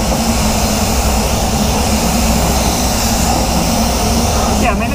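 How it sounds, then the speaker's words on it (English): Black Mamba Supernova LS-400 1.3 HVLP spray gun spraying clear coat on a Ford Focus: a loud, steady, broadband airy hiss that fills the whole clip without a break. "HVLPs aren't meant to spray this good."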